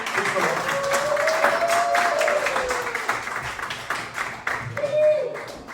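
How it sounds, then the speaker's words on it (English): An audience at a stand-up comedy show applauds and claps in a dense, steady patter, with a voice speaking over the clapping through much of it. "You can give a little clap for yourself."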